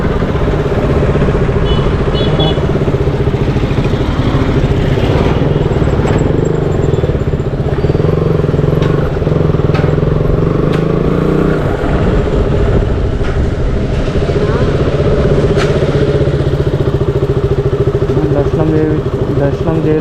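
A new motorcycle engine runs with a steady, loud drone and road noise that holds throughout, with occasional rattles and clicks.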